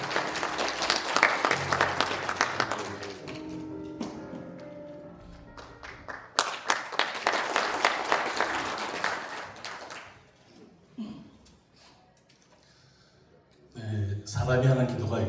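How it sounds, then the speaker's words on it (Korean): An audience at an indoor rally in a National Assembly members' hall bursts into applause that swells and fades, alongside stretches of a speaker's amplified voice and quieter gaps. "박수로 모시겠습니다."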